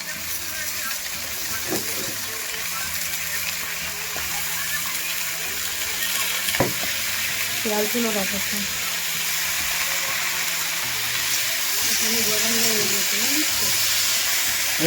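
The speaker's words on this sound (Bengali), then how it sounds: "এবার মাংসগুলো একটু পেঁয়াজের সাথে ভেজে দেওয়া হবে" Steady sizzling and frying hiss from a pan of chicken frying with onions over a wood-fired stove, continuous throughout, with occasional voices and faint clinks in the background.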